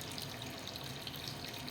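WD-40 poured out of a bucket through an opened vent during a Nissan L-28 engine block cleaning, a steady close liquid rush and splash with no talk.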